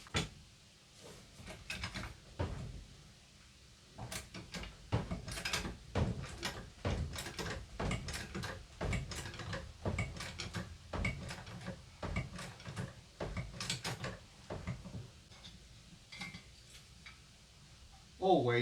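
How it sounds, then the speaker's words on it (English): Someone works a car jack to lift a car. It gives a long series of quiet, evenly spaced ratcheting clicks, with a voice heard at times. "time to do some jacking"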